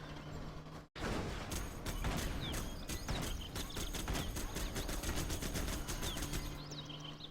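Rapid bursts of machine gun fire from infantry units in Command & Conquer Generals Zero Hour rattle on continuously and loudly, with a brief dropout near the start and no talk over it.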